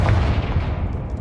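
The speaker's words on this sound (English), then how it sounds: "Confringo." A dense, rumbling blast from the Confringo explosive spell in Hogwarts Legacy, a loud booming burst filling the moment and fading out over about a second.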